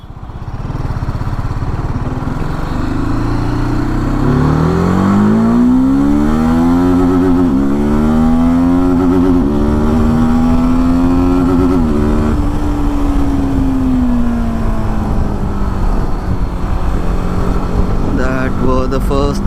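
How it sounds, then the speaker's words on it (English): TVS Apache RTR 310 motorcycle accelerating hard through its gears to redline, the engine note rising in pitch again and again with each gear, loud and continuous close to the rider. "I'll also try to redline it in each gear just to show to you what the maximum speeds in each gear are."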